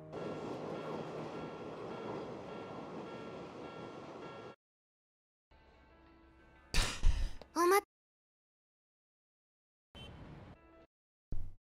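An anime CGI train rumbles steadily, then cuts out and returns in broken segments with sharp clanks and bangs, ending in a short burst.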